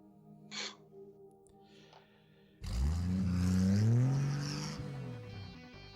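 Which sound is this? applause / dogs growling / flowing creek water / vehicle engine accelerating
vehicle engine accelerating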